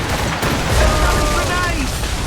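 Assassin's Creed Rogue ship cannons boom in a dense, continuous barrage amid strong wind and battle noise at sea, with shouting voices mixed through the roar.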